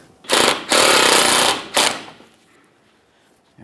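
A power tool drives a 10mm mounting bolt on a 2012-2015 Honda Civic during a washer reservoir replacement, in two loud close bursts separated by a short gap, followed by a brief final blip and quiet.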